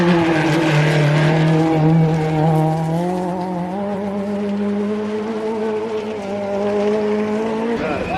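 A rally car at a Snowman Rally stage hairpin roars up close, its engine note climbing and holding through the bend, loud and continuous, then briefly cutting near the end.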